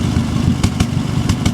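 A 1989 Nissan D21 Hardbody Z24 pickup idles with its exhaust close by, a steady low rumble broken by several sharp spitting pops.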